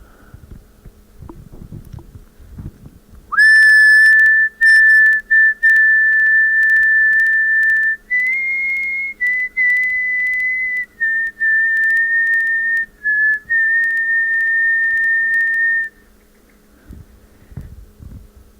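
A person whistles a long, clear melodic tune with brief breaks, loud and close, in an otherwise quiet setting.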